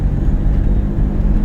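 A learner driver's car at a driving school gives a loud, close, steady low engine rumble as the accelerator is pressed, unbroken for the whole moment.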